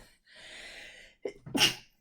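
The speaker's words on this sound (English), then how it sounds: "I'm going to sneeze" A single sneeze, close by: a long indrawn breath, then a sharp explosive burst at the end.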